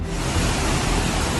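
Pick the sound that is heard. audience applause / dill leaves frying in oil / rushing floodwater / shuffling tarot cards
rushing floodwater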